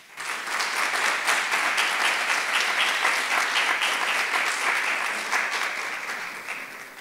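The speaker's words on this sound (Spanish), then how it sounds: "Recibamos con un fuerte aplauso a Alana Casanova." Loud, sustained audience applause rises quickly at a university talk as a speaker is welcomed, steady clapping for several seconds before tapering slightly at the end.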